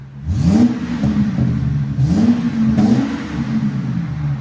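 A Ford Excursion's 6.8L V10 with a Magnaflow exhaust revs repeatedly, a deep, close rumble swelling and easing in several throttle blips over a steady idle.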